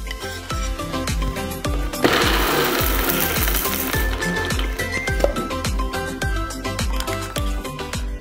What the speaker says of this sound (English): We're going to transfer all these spices to a blender and pulse them until a coarse powder forms.